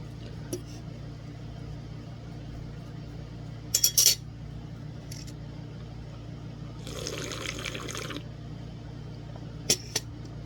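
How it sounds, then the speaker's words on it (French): Ramen being mixed with kimchi in a bowl: quiet clinks and scrapes of utensils against the bowl in a few short bursts, plus a longer wet stirring swish, close and soft over a low steady hum. "Donc, je vais mélanger un petit peu."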